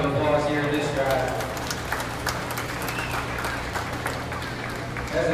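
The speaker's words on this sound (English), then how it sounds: "give both of these exhibitors a round of applause here in this drive" Applause from a crowd at a livestock beef show arena, sustained mid-distance clapping throughout with voices mixed in underneath.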